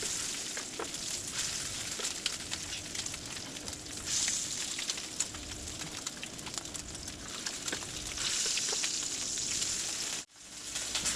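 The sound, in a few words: bacon frying in a pan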